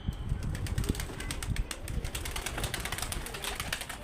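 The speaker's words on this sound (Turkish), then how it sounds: "indirip ee, ikinci grup kuşları uçuracağım." A group of pigeons released from a coop and taking flight, with rapid bursts of wing flapping and rustling close by and a few soft coos mixed in.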